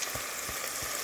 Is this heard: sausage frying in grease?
yes